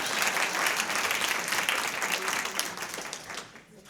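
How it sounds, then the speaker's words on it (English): Audience applause at an author talk, a dense steady wash of clapping from a seated crowd that fades out at the end. "So, one more round of applause."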